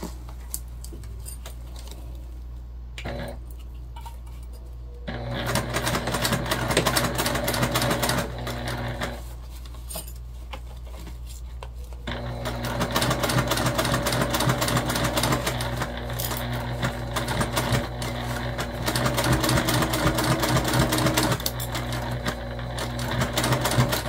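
A sewing machine bastes fabric in long, steady whirring runs of rapid stitching, broken by short pauses, close and clear with no talk over it.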